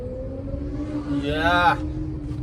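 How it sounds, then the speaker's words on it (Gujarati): A Benelli four-cylinder motorcycle passes by, its engine note rising in a quick high-pitched whine that swells and then cuts off, over a steady lower engine drone. "બેનેલી બેનેલી નીકળી ભાઈ"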